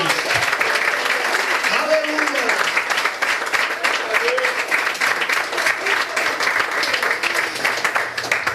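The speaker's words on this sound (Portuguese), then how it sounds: "dê uma salva de palmas para Jesus" Church congregation applauding during a sermon, dense sustained clapping filling the room, with a voice calling out over it.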